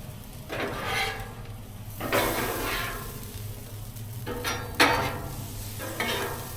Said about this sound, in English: saute up the shrimp